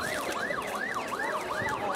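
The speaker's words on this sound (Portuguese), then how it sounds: "a ambulância só correndo lá" A wailing ambulance siren at a crowded music festival rises and falls in rapid repeating sweeps, loud and continuous over a dense crowd background.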